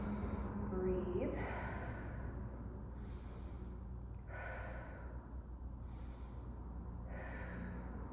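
Deep breaths from a chair yoga class: slow, airy inhales and exhales recur about every two seconds, close and steady over a constant low room hum, with no talking.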